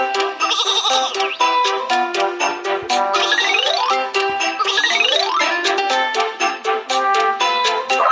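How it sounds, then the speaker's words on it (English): Cartoon sheep on a train track bleat over and over in a loud, overlapping chorus, wavering cries filling the whole stretch with faint jingling mixed in. "Some sheep are on the train track."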